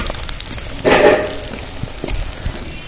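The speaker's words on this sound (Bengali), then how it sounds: "প্রত্যেকটা বেগুনি ভেজে নেবো" Eggplant fritters (beguni) frying in hot oil, a steady sizzle with a louder bubbling burst near the start, then continuing soft crackle close by, with no talking.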